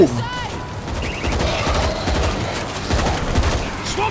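Sustained rapid gunfire from the video game World War Z, bursts of automatic shots and blasts layered over busy game effects, loud and continuous with a voice shouting underneath.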